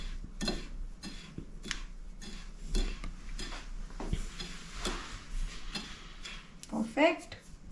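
A utensil stirs oregano into a dish in a pan, giving close, irregular taps, scrapes and clinks that repeat through the mix while a voice talks over it.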